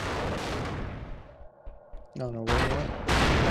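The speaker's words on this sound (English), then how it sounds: "I just chucked a nade in there" Grenade explosion in the PS2 game Splinter Cell Chaos Theory, Spies vs Mercs multiplayer: loud broadband bursts of blast and gunfire-like noise, with a brief spoken exclamation in between.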